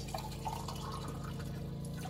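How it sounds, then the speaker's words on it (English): Water pours steadily into a cooking pan at an off-grid home, a close, continuous trickling and splashing that runs alone for about two seconds. "A little bit more water."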